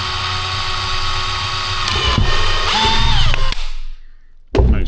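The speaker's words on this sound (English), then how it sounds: "let me just drill some holes" A power drill whines steadily at close range, its pitch dropping as it bites through a farm truck's metal fuel tank, then cuts out, followed by a brief clunk.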